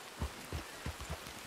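Rain in Red Dead Redemption 2, a steady faint hiss punctuated by soft, irregular low thumps of drops, with no voices over it.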